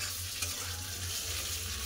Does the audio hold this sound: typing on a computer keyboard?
no